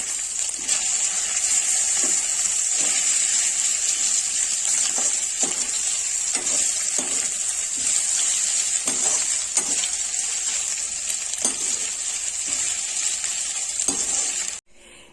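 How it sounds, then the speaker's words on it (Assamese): Steady loud sizzling of eggs frying in a pan, with occasional scraping and stirring clicks throughout, no talking. "ডিম ভাজি দিলোঁ।"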